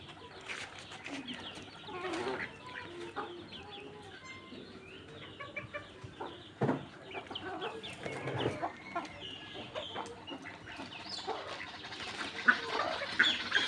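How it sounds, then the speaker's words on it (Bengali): A white-breasted waterhen calls from leafy tree cover above a rural yard, its repeated bird calls mixing with nearby chickens clucking and other birds, steady and moderately loud throughout. "এই গাছে আছে ডাহুক, এই যে শব্দ করতেছে।"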